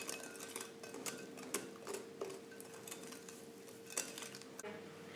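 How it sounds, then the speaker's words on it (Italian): Faint, scattered clicks and taps of a utensil against a bowl as chocolate lava cake batter is mixed with flour and bourbon vanilla essence, the strokes spaced irregularly over a low, steady background. "Ora amalgamiamo per bene tutti gli ingredienti."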